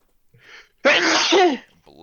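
A person sneezes once, loud and close: a short breathy intake, then a sharp burst lasting about half a second, followed by quiet and the start of speech.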